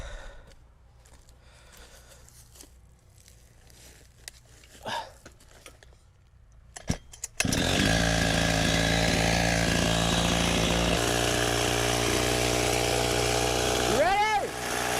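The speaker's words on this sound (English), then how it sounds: "Camera on, chainsaw." A chainsaw on an Alaskan chainsaw mill slabs pecan logs, with quiet handling noises and faint clicks before the engine roars in loud and close about halfway, then runs steadily to the end with a brief pitch sweep near the close.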